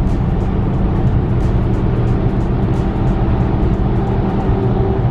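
A car cruises on adaptive cruise control, which speeds up and brakes by itself, producing a loud, steady engine and road rumble with constant tire and wind noise throughout and no speech.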